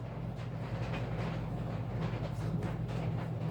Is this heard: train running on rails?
yes